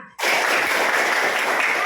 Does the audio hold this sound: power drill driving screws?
no